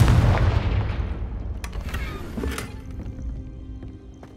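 A Confringo blasting spell is cast in the Hogwarts Legacy video game. A loud, booming burst opens at close range and then trails off into a long, rumbling decay, with fainter crackling impacts following.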